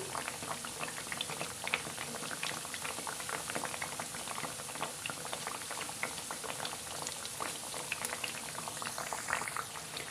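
Sweet tikiyan frying in oil in a pan over slow-to-medium flame, a steady dense bubbling sizzle with crackling pops running unbroken and fairly close throughout.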